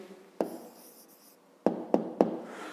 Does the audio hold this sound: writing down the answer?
yes